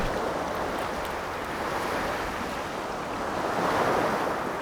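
Sea waves wash steadily onto the shore of a Jeju Island fishing village, a continuous broad surf roar mixed with wind buffeting the microphone, with no voices.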